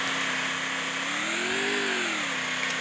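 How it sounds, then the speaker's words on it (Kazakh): A motorcycle engine in the video game Free Fire drones steadily and fairly loud, its pitch rising and falling once as it revs, with no voices over it. "мен атып өтсем мотоциклмен қашып кеттім"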